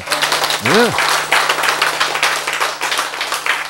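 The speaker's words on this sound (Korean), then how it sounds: "박수." Brisk clapping from a small audience, dense and fairly loud over nearly four seconds, with a steady low hum and a brief rising vocal swoop near the start.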